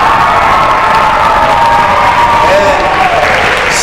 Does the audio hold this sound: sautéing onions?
no